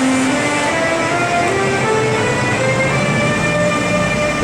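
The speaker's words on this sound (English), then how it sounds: "The distinctive start and initial acceleration sound of the Siemens ES64 type locomotive, popularly known as the Taurus" A Siemens ES64 Taurus electric locomotive pulling the Nightjet NJ466 sleeper train out of Wien starts and accelerates, a loud, steady rail rumble overlaid with stepped whining tones that rise in pitch.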